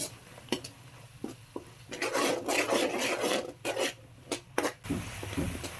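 Spatula scraping and stirring masala paste in a pan while cooking rabbit pepper roast, repeated rasping strokes at close range with no talk.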